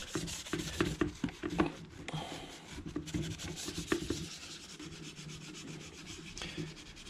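Rusty metal parts salvaged from a garbage RC truck are scrubbed by hand, giving a brisk, rhythmic rasping and rubbing with irregular strokes and brief pauses, close and alone.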